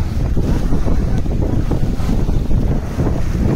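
Ocean waves wash in at a Goa beach near Dolphin Point, a close, constant surf rumble heavily masked by strong wind buffeting the microphone.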